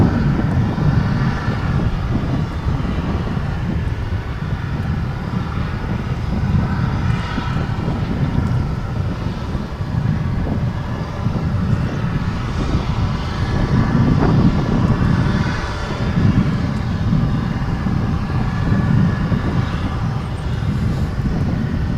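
An airliner sits on runway 17 Right at DFW International Airport, its engines giving off a steady, heavy low rumble mixed with wind buffeting the microphone, continuous for the whole stretch with no one talking.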